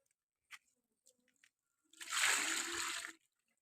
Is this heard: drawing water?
yes